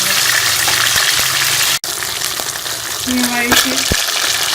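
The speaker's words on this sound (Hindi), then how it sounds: "ये ऑयल गर्म हो गया, इसके अंदर हम फिश को डाल देंगे। हम फ्राई कर लेंगे।" Fish fried in hot oil over medium heat, a loud continuous sizzle with clattering stirs and a sharp knock partway through. Someone speaks briefly over the frying.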